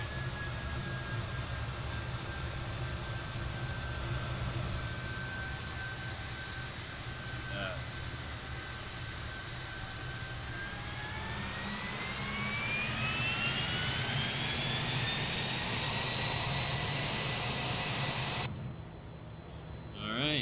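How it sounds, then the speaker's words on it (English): Fokker F28 jet engines in Microsoft Flight Simulator 2024, a steady whining turbine roar with a low rumble, holding for several seconds before the pitch climbs as the engines spool up, then cutting off near the end. "let's listen to those engines for a second."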